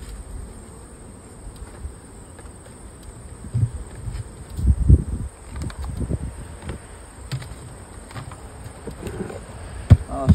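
Saskatraz honey bees hum steadily during a hive inspection, a low continuous drone with soft rustling and handling bumps rising and falling close by.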